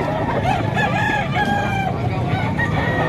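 Roosters crowing and hens clucking at a crowded poultry market, several long calls overlapping at close range against a constant murmur of market noise.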